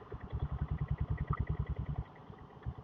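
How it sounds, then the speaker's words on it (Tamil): Diesel Royal Enfield Bullet motorcycle riding through city traffic, its engine thumping in a steady rapid rhythm up close before easing off, with faint road noise around it. "முன்னாடி டிராஃபிக்கை பாருங்க."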